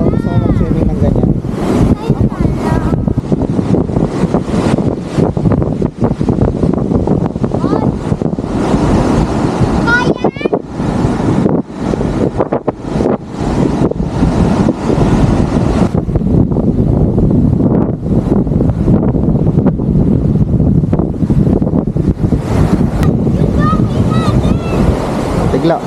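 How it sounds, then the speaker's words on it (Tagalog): Strong ocean waves crash and roar on a beach at Cagsiay 2, Mauban, Quezon, while heavy wind buffets the microphone and people chat intermittently underneath. "Ang lakas ng alon, no?"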